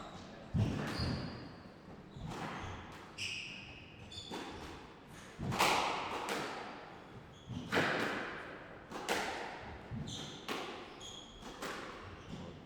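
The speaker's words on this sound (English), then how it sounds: "It's a great shot from Natalie. Yeah. Good reverse post" Squash ball strikes and thuds off the walls during a professional PSA Challenger Tour match in Waikato, including a reverse boast, heard as repeated sharp hollow smacks and bounces in an echoing court, with faint crowd or talk between them.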